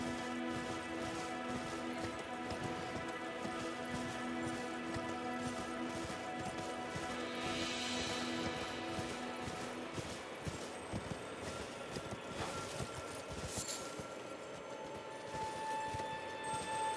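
Horse galloping in the video game Elden Ring, a steady rapid hoof rhythm running throughout amid dense game music and ambient tones, with occasional faint chimes layered over the mix.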